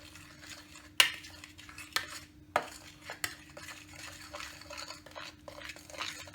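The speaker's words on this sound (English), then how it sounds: "I'm going to use the fork to mix up my banana and milk." Banana and milk mixed with a fork in a bowl for oaty muffins: light metallic clinks and taps of the fork against the bowl, with a few sharper knocks among soft stirring, close and fairly quiet.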